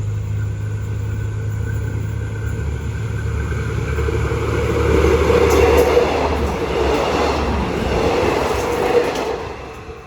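A diesel railcar express train passes through a station at night, a steady loud rumble of wheels and engine that swells in the middle as the cars go by, with no voices.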